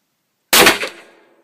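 A single loud, sharp gunshot from a Desert Eagle .50 pistol cracks out after a moment of silence, then its echo decays over about half a second.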